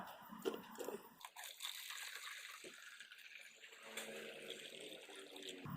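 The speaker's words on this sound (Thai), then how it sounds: "เราก็จะเทน้ำลงไปค่ะ" Water poured into a container for growing spring onions in water, a soft, steady splashing and trickle that runs through most of the few seconds at moderate level.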